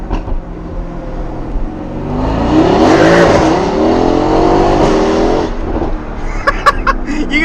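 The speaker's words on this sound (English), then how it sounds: "You can hear the blow-off valve or the bypass valve just second gear." A tuned Mercedes-AMG daily car of about 650 wheel horsepower pulls hard through the gears, a loud sustained engine roar with a brief tire-squeal edge, followed by sharp chirps and puffs from the blow-off valve as the throttle lifts.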